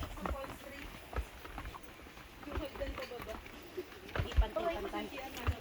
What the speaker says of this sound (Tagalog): Sakay ka na ng kabayo.